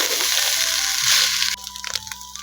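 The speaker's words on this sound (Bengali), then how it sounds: "এখন সব মিশিয়ে দেব।" Spatula scraping and stirring leftover-rice pulao with cashews and raisins in a pan, a steady close scraping hiss that drops to softer, scattered clinks and scrapes halfway through.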